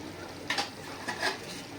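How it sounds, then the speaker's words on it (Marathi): Fish dropped into a simmering fish curry make a few soft plops and splashes over a faint bubbling background, quiet and close. "आता हे बघा हे मासे टाकूया आपण सारात."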